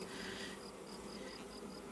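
Honeybees buzz around a colony split box during an apiary inspection, a faint steady hum with a few higher, intermittent wingbeat tones drifting close by.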